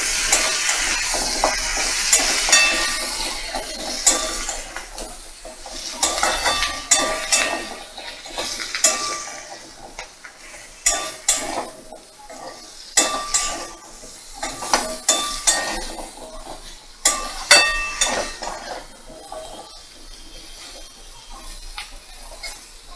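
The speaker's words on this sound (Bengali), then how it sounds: "মিডিয়াম ফ্লেমে দিয়ে ভালো করে নাড়াচাড়া করে নেব।" Pumpkin and potato pieces are stirred in a pan over a medium flame, giving repeated clinks and scrapes of a utensil against the pan over a soft sizzle, with irregular bursts of stirring throughout.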